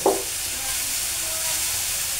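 Onions that have browned sizzle and hiss in hot oil as blended ginger-garlic paste is stirred in, a steady close frying crackle after a brief clatter at the start.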